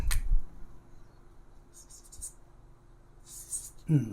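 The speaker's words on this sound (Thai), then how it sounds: "เดี๋ยวผมเขียนไว้ก่อน" A pen writes on a sheet of paper in short scratchy bursts, close and soft, with faint breathy murmurs and a light thump near the end.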